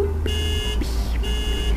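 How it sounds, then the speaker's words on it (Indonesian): A car horn honks three times in a tunnel, three sustained bright tones separated by short gaps, loud and close over a low engine rumble. "kalian itu harus bunyiin klakson selama 3 kali"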